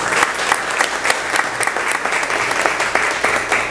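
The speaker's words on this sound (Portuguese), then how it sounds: "Vamos aplaudir a palavra de Deus." A church congregation breaks into loud, lively applause, many hands clapping in a dense, uneven patter with rhythmic surges throughout.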